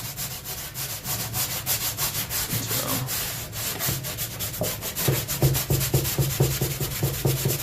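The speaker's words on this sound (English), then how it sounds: "Might have still been a little wet, but everything's dry enough to sand." Rhythmic back-and-forth sanding strokes on a dried drywall patch, a steady scratchy rubbing that speeds up toward the end, close and fairly loud.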